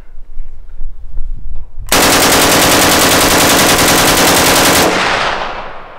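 A full-size Uzi submachine gun fires one long continuous burst lasting about three seconds, loud and close, after a moment of quieter handling noise.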